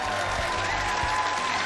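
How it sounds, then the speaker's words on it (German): A short burst of crowd applause, dense and steady, with a low rhythmic thumping underneath, as on a live streamed entertainment show. "Applaus."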